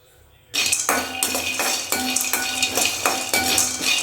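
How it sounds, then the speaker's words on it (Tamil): Peanuts dry roasting in a kadai for peanut chutney, stirred so the nuts rattle and clink steadily against the metal pan with a scraping utensil, close and fairly loud, no talking. "இப்போ இன்னொரு கடாய் வச்சுட்டு அதில் வேர்க்கடலை சேர்த்துக்கிறேன். அதை ட்ரையாக வறுத்துக்கணும்."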